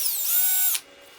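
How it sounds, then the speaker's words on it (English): A high-pitched power drill whines steadily while drilling into the bottom of a Baby Yoda figure, rising slightly in pitch, then cuts off abruptly and winds down. "Drill, baby, drill!"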